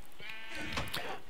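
A sheep bleats in Minecraft at a farm feed station, one drawn-out, wavering cry heard clearly against a steady game background.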